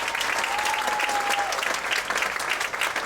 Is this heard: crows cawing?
no